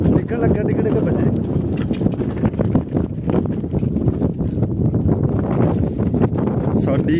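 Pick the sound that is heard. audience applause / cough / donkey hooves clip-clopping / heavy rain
donkey hooves clip-clopping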